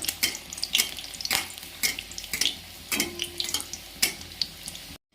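Snacks made from leftover rice fry in oil over low heat, giving a close, irregular series of sharp crackles and spits over a soft bubbling bed, with no talking.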